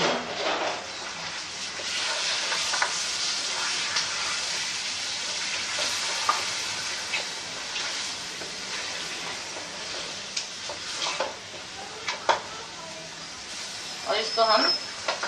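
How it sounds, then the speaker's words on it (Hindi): Beef paya masala with yogurt fries in oil with a steady sizzle, broken by occasional stirring scrapes and clinks, with someone talking at times. "इसको हम भूनते जाएंगे जब तक मसाला तेल ना छोड़ दे"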